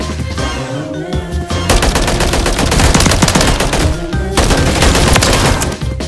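Rapid, loud bursts of automatic gunfire from an odd, weird-looking video game gun, near and sustained, with a short pause between two long volleys.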